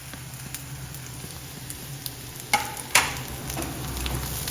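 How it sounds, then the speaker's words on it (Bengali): Steady sizzling of carrots frying in a pan, with a couple of sharp clinks from a utensil stirring partway through. "গাজরটা ভাজা হয়ে গেছে"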